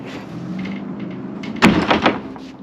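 A cargo trailer's spring-loaded rear ramp door on a 6x10 TrailerPlus is pulled open, a soft rustle giving way to a sudden clunk and a couple of rattling knocks, close and fairly quiet.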